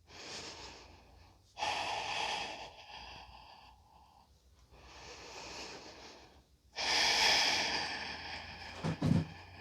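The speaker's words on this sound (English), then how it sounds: "and breathe." Slow, deep breaths are drawn in and pushed out through the nose during a yoga pose, with several long airy inhales and exhales separated by quiet pauses, close and soft, ending in a brief snort.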